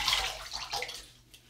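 Water runs while a razor is rinsed after a shave, producing a short, close, splashy rush that fades toward the end.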